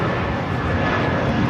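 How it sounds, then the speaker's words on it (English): Spirit Airlines Airbus A319 jet taking off at Los Angeles International Airport, a steady loud broadband engine roar with no talking. "591 taking off to Houston Intercontinental on an A319"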